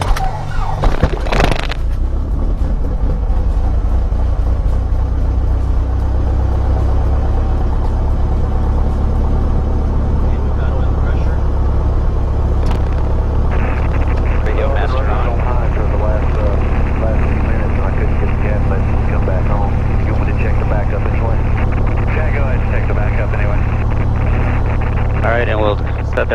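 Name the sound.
Mooney airplane piston engine starting and idling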